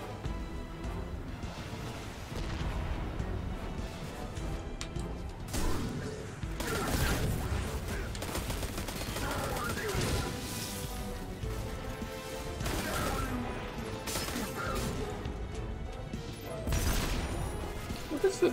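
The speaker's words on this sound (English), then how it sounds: "Random explosion." Explosions and gunfire in the video game Destiny 2: a dense, continuous din of crashing blasts, whooshes and shots that rise and fall in bursts over about eighteen seconds, with a voice heard faintly in the mix.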